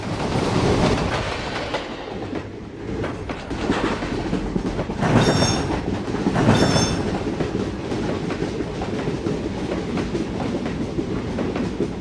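Simulated Indian passenger train in Trainz Simulator on the Visakhapatnam route, rolling steadily on rails with continuous rumbling clickety-clack and two brief brighter screeching surges midway, loud and close with no talking.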